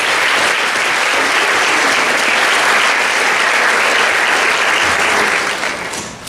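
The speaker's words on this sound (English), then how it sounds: "Let's give those guys a round of applause." Sustained applause from a banquet audience at a high school athletic awards event, steady, close clapping from many hands that holds evenly for several seconds before fading near the end.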